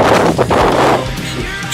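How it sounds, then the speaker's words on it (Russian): Strong wind buffets the microphone outdoors as a loud, continuous rumbling roar that covers everything else. "Ветер сильный."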